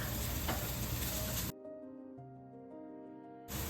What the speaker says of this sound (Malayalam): ഇതിലേക്ക് 1 ഏത്തക്ക അരിഞ്ഞതിടാം. അതൊന്ന് വഴറ്റിയെടുക്കാം.